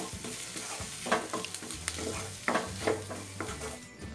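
A spoon scrapes and stirs potato bonda masala with fresh coriander leaves in a pan, giving repeated scraping strokes over a soft sizzle, close and steady, with no talking.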